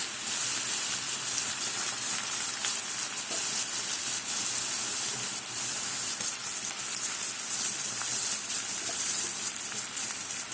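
Potatoes fry in hot oil in a pan, giving a steady, dense sizzle and crackle that stays loud and even throughout, with no voices.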